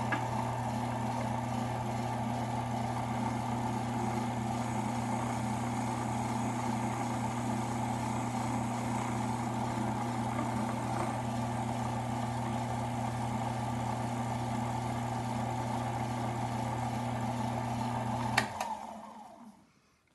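A neck turning machine trims a brass cartridge case neck with a steady, continuous mechanical drone and whir that holds evenly for about eighteen seconds, then stops abruptly.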